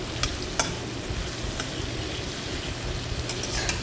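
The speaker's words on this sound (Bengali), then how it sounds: "দেখো, চিংড়ি প্রায় ভাজছি।" Shrimp frying in hot oil in a home kitchen pan, a steady close sizzle with a few sharp spatter pops and stirring scrapes, no voices.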